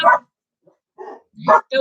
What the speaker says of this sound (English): We don't bark on the podcast. We don't bark on live stream.